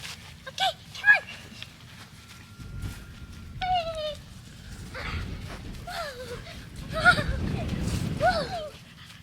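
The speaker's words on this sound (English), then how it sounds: "She a happy dog, Ransom?" A happy puppy whimpers and whines in short high squeaks and yelps over a soft rustling background, with people talking at moderate distance.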